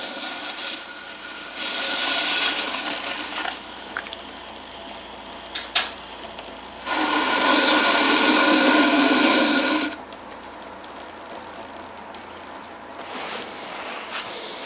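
A pot's bottom is trimmed on a spinning pottery wheel, with bursts of rasping, scraping tool-on-clay noise over the wheel's hum and a louder sustained scrape near the middle.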